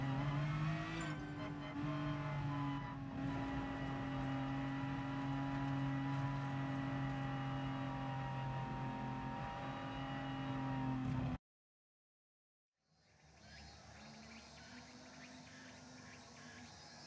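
Race cars in the GT Sport video game sit on the grid with engines droning loudly and steadily, then surge away together at the start. The roar cuts to a brief silence and returns as a thinner, more distant engine noise.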